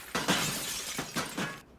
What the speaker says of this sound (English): You just smashed a window.